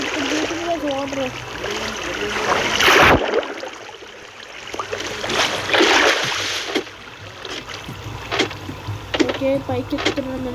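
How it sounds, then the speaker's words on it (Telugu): Running, splashing water from falling water in the video game Minecraft, a steady trickling stream with brief splashes throughout, heard under continuous talking. "ఇది వాటర్ ఇంకా పడుతుంది."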